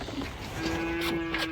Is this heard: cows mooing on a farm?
yes